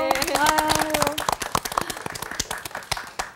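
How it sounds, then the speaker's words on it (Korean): A church audience claps together at a youth lecture, starting under a sustained voice or tone and then breaking into a run of sharp, fairly quick, uneven hand claps that thin out toward the end. "우리 박수 한번 해요"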